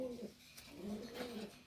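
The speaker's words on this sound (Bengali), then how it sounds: "এটা হলো মিডিয়াম সাইজের একটা কবুতর, ব্রিডিংয়ে বসে আছে মাসল" A medium-sized racing pigeon in a breeding loft gives a few faint, low rolling coos close by in a quiet space.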